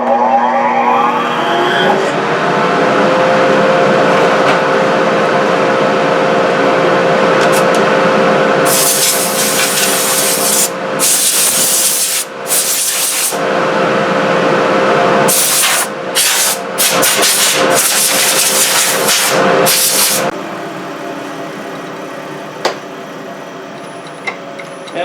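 Workshop dust collector roaring steadily and loudly throughout while lacquer is sprayed on a lathe workpiece, with bursts of spray hiss on top before the collector drops off near the end.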